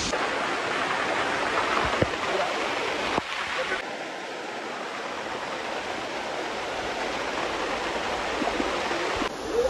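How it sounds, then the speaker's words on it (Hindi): Steady rushing of a hidden waterfall near Kharghar, Mumbai, during the rainy season, a constant close wash of water that runs throughout. "वाटरफॉल देख सकते हो"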